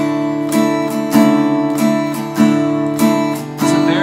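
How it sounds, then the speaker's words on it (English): Acoustic guitar strummed in a steady 3/4 pattern, low and full-sounding chords ringing continuously, no voices. "It's a very nice, low, kind of majestic strum pattern."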